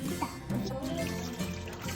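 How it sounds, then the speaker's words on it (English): Juice pours into an eggless oat chocolate cake batter in a home kitchen, a short soft trickle that runs under voices talking nearby. "Let's add some juice."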